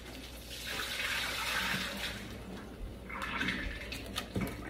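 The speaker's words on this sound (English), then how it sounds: "So I poured the water off of my ground sirloin" Water is poured off cooked ground sirloin in a home kitchen, two splashing pours into a sink, close and moderately quiet, with a few clinks at the end.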